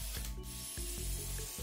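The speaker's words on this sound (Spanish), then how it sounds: "ahí pues nomás le estoy haciendo los agujeros donde voy a poner los tornillos" A drill bores screw holes while a door is being built, giving a brief whirring, ratcheting mechanical buzz with a couple of short pauses and restarts.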